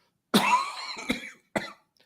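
A single close, sharp sneeze-like burst followed by a couple of short, breathy after-bursts, then silence.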